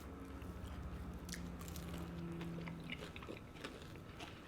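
A crunchy bite into a vegan soul roll wonton filled with greens, mac and cheese and sweet potato casserole, close and quiet, followed by soft chewing under low background hum.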